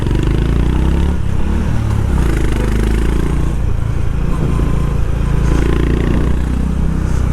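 A Honda H'ness CB 350 motorcycle rumbles steadily while being ridden, its single-cylinder engine and exhaust giving a continuous low, throbbing drone with wind noise, loud and close throughout.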